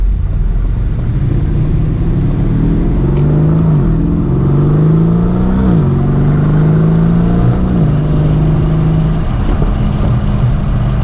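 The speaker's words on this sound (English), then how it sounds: "This car gets to 60 so quick, it's ridiculous." 2020 Aston Martin DB11 Volante accelerating hard, its engine roaring loud and close as the pitch climbs through gears in several stepped rises and drops across the run.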